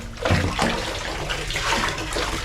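Water runs steadily into a container at home, a continuous close rushing and splashing that fills the whole short stretch with no one talking.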